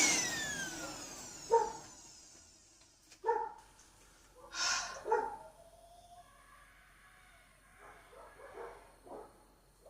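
A dog barking outdoors in a few separate bursts spaced several seconds apart, somewhat distant and muffled, with quiet background hiss between barks.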